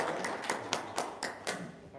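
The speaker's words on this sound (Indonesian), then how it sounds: "Tepuk tangan lagi dong." A few separate claps ring out at a religious gathering in Indonesia, about six sharp hits spaced roughly a quarter second apart over a low murmur, sounding like a small number of people clapping rather than full applause.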